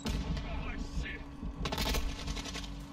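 Gunfire in a video game: scattered shots and bursts crackle over a steady low hum, with one denser volley in the middle, all fairly quiet.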